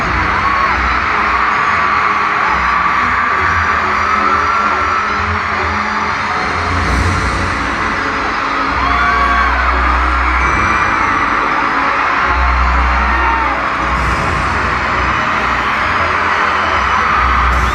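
A stadium crowd at a concert in Las Vegas screams nonstop, a dense, loud roar with pulsing low thumps from the stage sound rising and falling beneath it.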